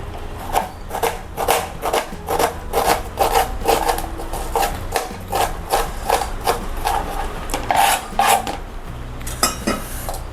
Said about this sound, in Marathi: जो कांदा आपण स्टफिंगसाठी वापरणार आहोत तो अगदी बारीक चिरून घ्यायचा.